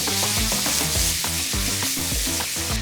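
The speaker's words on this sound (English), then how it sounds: "Now heat the meats on high heat in the same way." Beef for a Philly cheesesteak sears on high heat in a pan with no oil, giving a loud, steady, close sizzle. Repeated stirring scrapes and knocks fall in a fairly regular rhythm over the frying.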